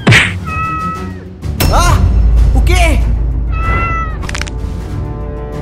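Cat in an animated Spider-Man story yowls and meows after being struck, with thumps and a whack between several loud, rising-and-falling cries, close and alternating with a person speaking.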